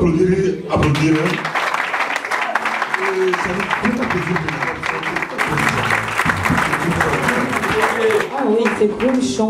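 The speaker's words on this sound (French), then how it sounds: "On peut applaudir" A crowd at a celebration of a priest who trains young people breaks into sustained applause, a thick, continuous patter of clapping running throughout while voices carry on over it.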